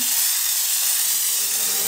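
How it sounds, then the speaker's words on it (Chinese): A Laurastar IGGI handheld steamer releases a continuous, fairly close hiss of steam that holds steady and thins slightly toward the end. "开关就在这里，你只要食指扣着它按出蒸汽"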